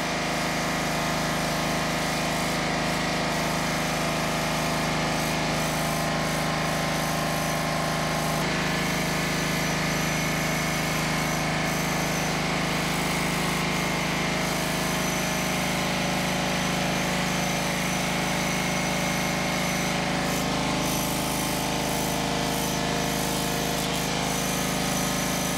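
On a farm, an engine runs while a pump sucks diesel, giving a loud, continuous droning hum with a steady mechanical rattle that barely changes. No speech is heard.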